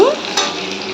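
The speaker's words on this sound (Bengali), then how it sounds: "কাঁকড়ার ঘিলু ভাজছি" Crab brain sizzles while frying in a pan in a Bengali home kitchen, a steady close hiss with a brief stirring scrape at the start.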